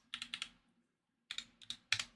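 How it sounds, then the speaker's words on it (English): Keys clatter on a computer keyboard, a quick burst of three or four close taps, a short pause, then another flurry of clicks, with no talk. "I have like this really pretentious keyboard"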